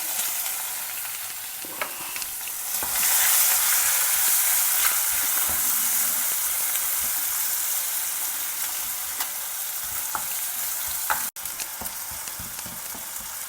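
Finely chopped onion and fresh curry leaves hit hot oil in a pan and swell into a loud, continuous hissing sizzle, with scattered pops and a brief clatter near the end.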